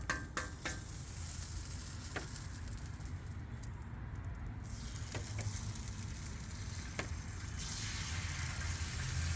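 Sausage and eggs fry in a pan for breakfast, giving a steady close sizzle with scattered pops and crackles throughout and no talking.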